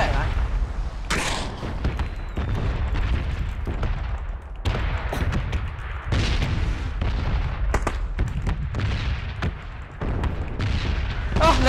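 Gunfire in the battle royale game PUBG, repeated sharp shots and booming reports spread irregularly across the stretch, some in quick bursts, loud over a low rumbling backdrop.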